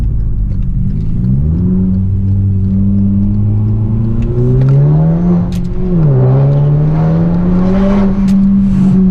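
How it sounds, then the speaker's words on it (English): A 2018 Hyundai Elantra Sport turbo engine fitted with an aFe Scorcher GT module revs up loudly and close, its pitch climbing, dipping briefly and rising again, with a turbo whir over the engine note and no talk. "turbo's a lot louder too. I can hear it spool up a lot better."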